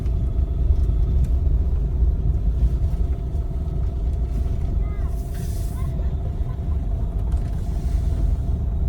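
A car driven by a learner on a road with water ahead gives a continuous low engine rumble with faint mechanical creaks, steady and close throughout.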